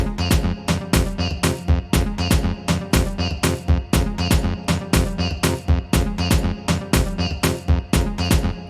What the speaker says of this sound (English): So yeah, so this bell sound